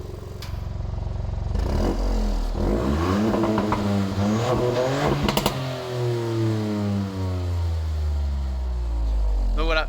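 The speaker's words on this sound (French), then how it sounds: "On l'entend bien avec l'ouverture des clapets et le beau petit pop qu'elle fait sur la ligne d'échappement." A 200 hp three-cylinder Ford Fiesta MK8 in sport mode with its exhaust valves open, the engine revving up and down in sweeping rises and falls, loud and close, with a few sharp pops.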